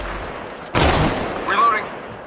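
Gunfire in a team shooter video game against bots: a sudden loud burst of rapid shots just under a second in, trailing off, then a second shorter volley followed by a fainter echoing tail.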